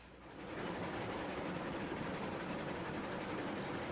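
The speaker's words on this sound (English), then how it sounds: "Passenger train is back on track." A passenger train from the game Railroads Online rolling along the track, its dense rumble and rail clatter swelling in over the first half second, then holding steady and fairly close with no talking.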